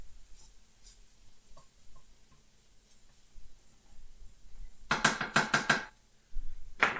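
A spoon stirs a garlic and ginger mixture in a pan, giving a quick burst of five or six loud scraping, sizzling strokes near the end, with another stroke starting at the close and faint kitchen noise between.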